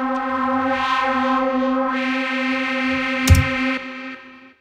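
Logic Pro Alchemy synth lead with automated parameter changes, a sustained harmonic tone whose brightness sweeps and wobbles over time, with a brief noisy burst near the end before fading out, no speech.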